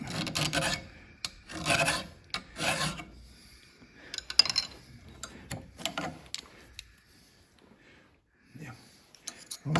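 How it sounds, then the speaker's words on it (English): A 7/32 chainsaw file rasps against a clamped woodturning tool in close, repeated strokes, each stroke a short scraping burst separated by brief pauses and light clicks. "these tools need sharpening quite regularly, and we use a chainsaw file."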